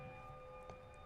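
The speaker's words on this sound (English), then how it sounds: "I'm sorry about that siren." A siren wails outside on a hot day in San Francisco, drifting in through an open window as a faint steady tone behind the room's hum.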